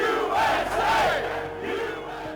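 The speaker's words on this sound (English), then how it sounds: "it also brought the biggest crowd in Lobby Day's almost 2-decade history" Large outdoor crowd at the Virginia Lobby Day gun-rights rally, a dense roar of many voices with rising and falling cheers and shouts, loud and continuous.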